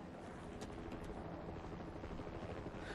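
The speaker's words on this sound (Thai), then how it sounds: "มีเฮลิคอปเตอร์ในปฏิบัติการลับอยู่ด้านหลังพวกเราเนี่ย" Helicopter passing overhead near a possible military base, a steady broadband rotor roar with low thumping that holds loud and constant throughout, no talk.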